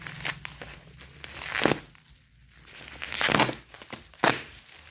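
Plastic wrapping on a cash-on-delivery parcel crinkles and tears as it is unwrapped up close, in loud irregular bursts with brief pauses and no talking.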